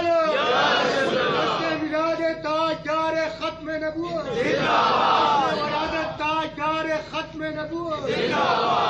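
A crowd at a Mehfil-e-Meelad gathering in Peshawar chants the Khatm-e-Nabuwwat slogan in loud, repeated call-and-response bursts, with voices swelling together in two big waves.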